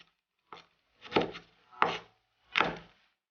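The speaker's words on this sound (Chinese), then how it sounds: "大蒜切片" Garlic cloves sliced with a knife on a wooden board, four distinct woody chopping knocks spaced about half a second apart, close and clear in a quiet room.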